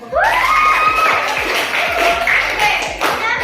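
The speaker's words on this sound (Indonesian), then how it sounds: "Kasih aplaus." A classroom of students bursts into applause, rapid overlapping claps with cheers and shouts rising over them, loud and close for several seconds before thinning toward the end.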